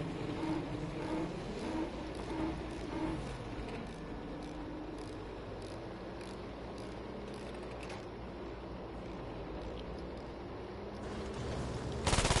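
Video game gunfire rattles almost without pause in rapid overlapping bursts and scattered volleys, with shots coming from all sides over a steady background din.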